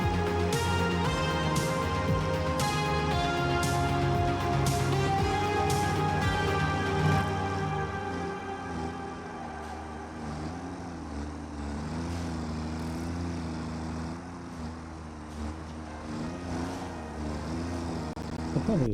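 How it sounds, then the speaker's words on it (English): Small tractor driving in Satisfactory produces a steady humming engine drone with a rising and falling pitch as it moves, continuous for the whole stretch alongside background music. "I probably enjoy driving these little tractors more than I should."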